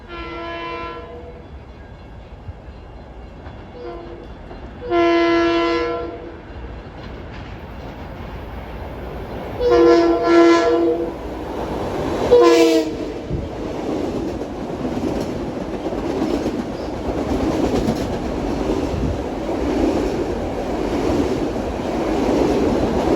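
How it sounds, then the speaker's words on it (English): A westbound deadhead train sounds its horn for the New Hyde Park Road grade crossing in New Hyde Park, New York: several loud separate blasts, followed by a steady rumbling roar as the train rolls past. "He'll be blowing for the soon-to-be defunct new Hyde Park Road crossing."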